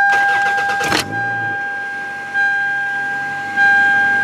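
A car engine cranks and fires up after new spark plugs and ignition wires were fitted to fix a misfire, a loud burst of starting noise followed by a steady idle hum with a couple of small revs.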